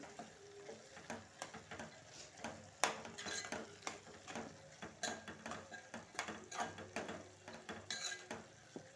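A spoon stirring green chilies through ridge gourd and moong dal in a pot, with regular scraping strokes against the metal over a soft sizzle, close and fairly quiet.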